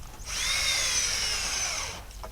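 A power drill drives fasteners into hemlock sawmill slab wood, giving one loud, close, steady whine of nearly two seconds before it stops.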